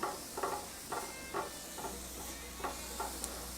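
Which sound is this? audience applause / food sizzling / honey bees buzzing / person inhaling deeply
food sizzling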